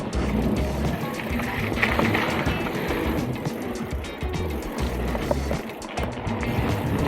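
Trek Roscoe 7 mountain bike rolling along a trail on Green Mountain, with steady tire rumble, rattling and wind noise running continuously throughout at close range.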